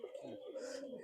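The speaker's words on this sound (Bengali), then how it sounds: "এ হচ্ছে আমার আর একটা মাদি, মাদি কবুতর" A female Khulna Chot pigeon coos in soft, low, throaty pulses, close by and steady across a brief moment, with a faint hiss in the background.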